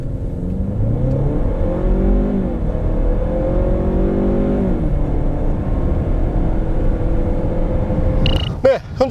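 A 2019 Lincoln MKC with a 245-horsepower engine, six-speed automatic and all-wheel drive accelerates hard, its engine note rising and shifting through gears in a steady, loud drone, with a brief voice near the end.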